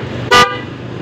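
A single short, loud blast from a car horn wired through a relay and switched to ground, close by and clear, rising abruptly out of a quiet background and cutting off just as sharply.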